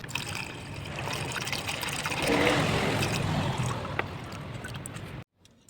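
Water splashes and trickles steadily for several seconds, as if poured from a container, close and fairly even, then stops abruptly.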